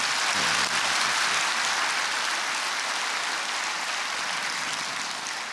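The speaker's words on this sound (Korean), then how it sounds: "우리 그분들 격려의 박수 한번 해주셨으면" A church congregation gives steady, even applause in encouragement, a dense wash of clapping that holds at a constant level throughout with no voices standing out.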